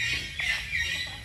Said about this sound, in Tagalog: Loko naman ang ibon na to.